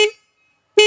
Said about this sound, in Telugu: కింద చూసుకుంటే హార్న్ అయితే ఉంది